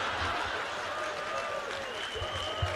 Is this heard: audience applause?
yes